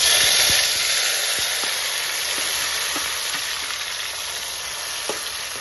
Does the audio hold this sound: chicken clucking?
no